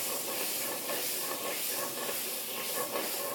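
Raspberry wine flambéing in a pan with duck breast gives off a continuous loud sizzling hiss, close and steady, with no voices.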